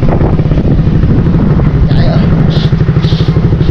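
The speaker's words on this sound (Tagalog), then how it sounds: "Ayan, yung aking isang motor. Naayos na." A repaired motorcycle engine runs with a steady, loud low rumble and rapid pulsing, close to the microphone, with some wind buffeting and a few brief higher clatters toward the end.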